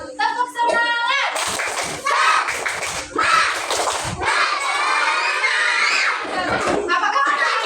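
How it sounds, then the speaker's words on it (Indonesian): A class of children performs a tepuk semangat clapping chant, shouting the words together in loud bursts over sharp, rhythmic handclaps. The chant is close and energetic and continues throughout. "Kita itu mau tepuk semangat dulu."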